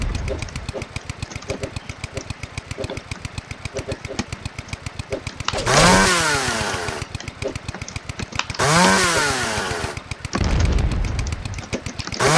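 A chainsaw in the video game Pain cutting down trees: a rapid buzzing motor rhythm throughout, broken by two loud roaring bursts with sweeping pitch, close and prominent.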